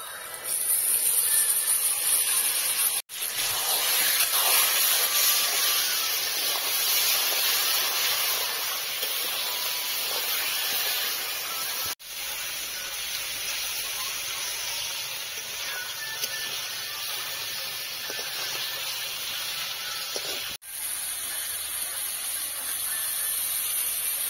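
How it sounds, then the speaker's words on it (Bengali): Rohu fish pieces are laid into hot, fried spice masala for a Bengali sweet-and-sour curry, giving a loud, steady hissing sizzle broken by a few short drops, with no voices. "মশলাটা ভাজা হয়ে গেছে, এবার আমি মাছটা দিয়ে দিচ্ছি।"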